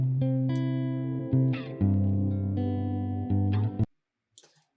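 Electric guitar run through stereo delay plugins in Logic Pro with the auxiliary track's volume raised; sustained chords ring out with trailing repeats, then stop abruptly, followed by a few faint echoing taps.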